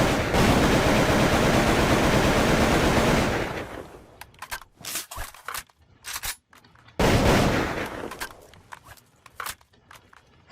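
CV-74 AK-platform rifle firing in the Firefight video game: a sustained loud burst of automatic fire, then a stretch of scattered single shots, then another dense automatic burst, near and with no talking.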